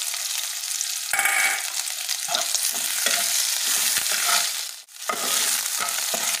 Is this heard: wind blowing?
no